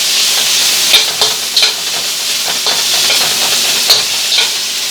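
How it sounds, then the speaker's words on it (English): Bacon and sausage frying together in a pan, a steady close sizzle with scattered crackles and pops and occasional stirring scrapes, no talking. "this is my bacon and my sausage, and you can cook them together"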